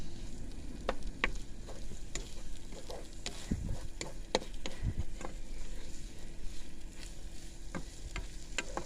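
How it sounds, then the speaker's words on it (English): Spanish rice frying and stirred in a pan in a van kitchen, a steady sizzle with scattered scraping clicks from the spoon, close and continuous with no talking. "And yes, I continuously fry it."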